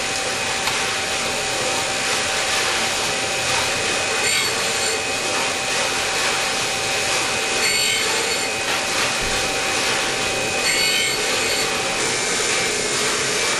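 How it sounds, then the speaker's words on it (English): Valve stem ends from a Fiat 1200 cylinder head are ground on a machine, giving a continuous, loud whirring grind with a steady tone, heard alone without speech. "now that we have the stem ends all ground"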